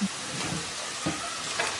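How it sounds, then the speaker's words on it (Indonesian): Potatoes fry in a pan with a steady, dense sizzle, close and continuous, broken by a few soft stirring knocks. "Sekarang kita akan goreng kentangnya terlebih dahulu"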